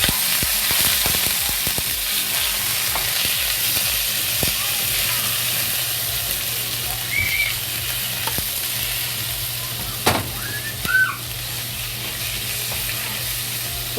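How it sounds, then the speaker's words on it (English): Ground beef fries in hot oil in a pan, giving a steady low sizzle and hiss with occasional pops and utensil taps, fairly quiet and close with no talking. "when the oil is hot, we add the ground beef into it to slowly to fry"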